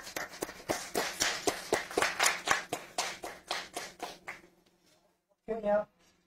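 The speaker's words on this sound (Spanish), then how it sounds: "por favor recibamos con un aplauso a los profesores" A small audience at an academic event for physics teachers claps to welcome the professors, with sparse, distinct handclaps in a loose rhythm that die away, followed by a brief voice.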